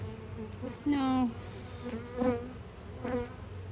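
Honey bees buzz close by while a hive is opened for inspection, a steady low hum broken by several louder, rising passes of individual bees flying near, with no talk.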